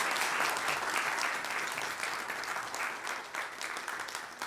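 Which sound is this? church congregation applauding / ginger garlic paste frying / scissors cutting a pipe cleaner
church congregation applauding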